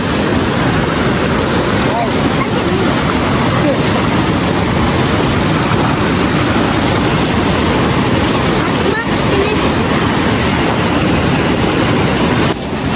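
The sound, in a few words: river waves on the Koksu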